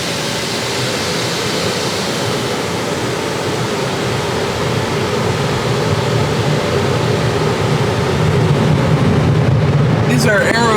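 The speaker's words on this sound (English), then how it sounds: "These are aero dry dryers. They're actually working surprisingly well." Aero Dry air dryers blasting at the end of a car wash tunnel at a Circle K gas station, a loud, steady roaring rush of air that builds slightly toward the end.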